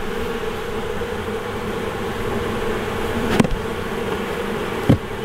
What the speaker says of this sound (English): Way too many bees on the bottom